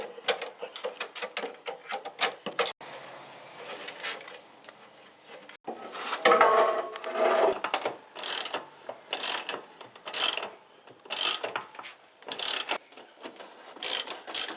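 Ratchet wrench cranking up the crossmember of a Porsche 944 S2 during an engine mount replacement, with repeated bursts of close, crisp clicking separated by short pauses.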